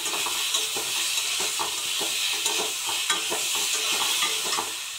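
Parboiled raw banana and potato pieces frying in a pan for a fish curry, a steady close sizzle and hiss with soft stirring scrapes throughout, no voices.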